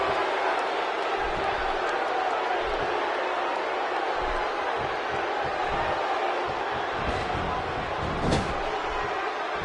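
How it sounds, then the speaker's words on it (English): Arena crowd noise from the WWE 2K16 wrestling video game forms a dense, continuous roar throughout, with commentators talking over it. "The crowd is buzzing."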